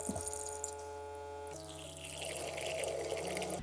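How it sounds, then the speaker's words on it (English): Hot water at about 92 degrees dispensing from a Hydrofast W100 filter machine for tea, a steady running stream with machine hum that shifts and grows louder midway, continuous and close with no talk. "the water is coming out nicely, which is what I need to make my tea"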